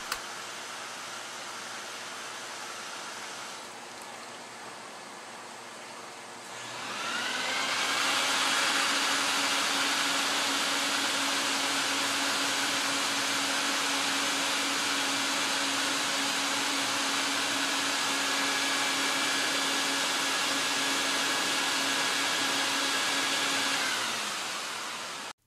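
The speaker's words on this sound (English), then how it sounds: "Listen how the vacuum" A vacuum cleaner roars into a loud, steady whine after a quieter stretch, cleaning a Turkish carpet, running continuously with a sustained motor hum and no talking.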